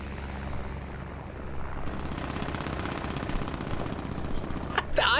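Machine gun fire rattles in a video game as rapid, continuous bursts over a low droning engine hum, with a louder sharp crack near the end.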